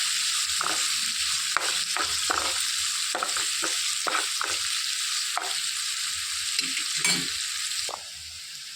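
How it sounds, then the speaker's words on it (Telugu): Thinly sliced onion fries in oil for a rajma curry, a loud close hiss of sizzling with occasional scraping stirs of a utensil against the pan, continuous and without talk. "సన్నగా కట్ చేసి పెట్టుకున్న ఉల్లిపాయ ఒకటి వేసేసుకోవాలండి. త్వరగా వేయించేసుకోవాలి."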